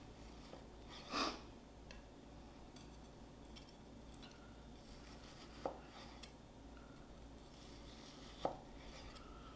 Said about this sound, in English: Now, I'm not putting a lot of downward pressure when I'm cutting these.